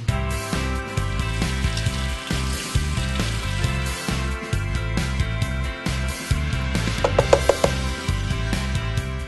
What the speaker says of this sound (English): we're going to step back to the sink and get all of the little white bubbles off of these beans